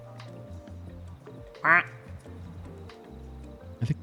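A cartoonish video-game duck, a Norman duck, gives a short bright burst of quacks, then a couple of brief lower honks near the end, over steady game music.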